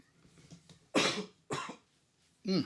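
A person with a lingering cough lets out three harsh, close coughs in quick succession, separated by short pauses, with faint murmuring before the first.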